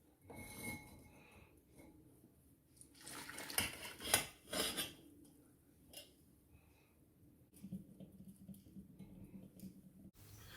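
Herbal decoction poured through a sieve into a clean bowl, with soft clinks and scrapes of metal utensils and a brief splash of liquid, quiet and close, set between stretches of near silence.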